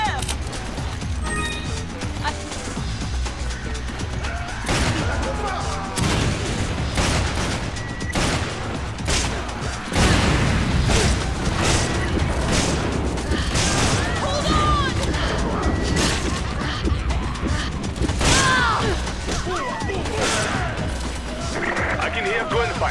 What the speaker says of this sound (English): Hostile gunfire.